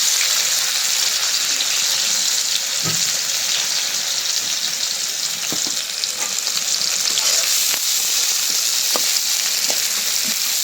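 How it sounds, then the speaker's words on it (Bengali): Onions frying in fish-fried oil, a loud, steady, hissing sizzle that holds constant throughout, with a few light clicks of stirring cutting through it. "পেঁয়াজটা ভালো করে ভাইজা নিলাম"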